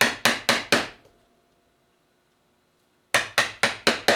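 A chisel driven by a mallet into pine while cutting a candle box: four sharp, evenly spaced strikes, a pause of near silence, then five more crisp blows, loud and close with no talking.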